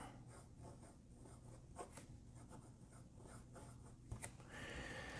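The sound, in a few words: Moonman M100 fountain pen with FPR flex nib writing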